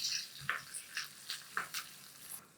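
Coriander leaves fry in hot oil for a tempering, a quiet sizzle broken by several soft, regularly spaced spatters and stirring clicks.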